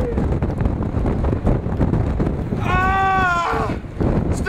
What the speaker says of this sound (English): Oh, it's a little windy, as you can tell!